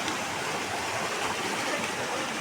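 Water rushes through a stream swollen after heavy rain, a dense steady roar heard close and unbroken, with no voices.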